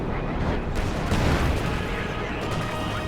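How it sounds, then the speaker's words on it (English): An artillery barrage in Company of Heroes 2 pounds without pause, a dense continuous roar of overlapping booms and rumbling impacts, loud and close for the whole stretch. "This barrage now has 12 kills here."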